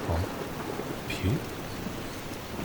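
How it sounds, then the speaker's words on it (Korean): Rain falls steadily as a hissing, even wash, with a few voices and low thuds rising briefly above it. "오늘 비 온다는 소리는 없었는데."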